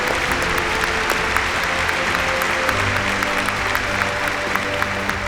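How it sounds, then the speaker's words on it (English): Sustained applause from a large audience at a grocery retailers' awards ceremony, steady dense clapping filling the room for several seconds without pause. "One more round of applause for all of our International Retailers of the Year."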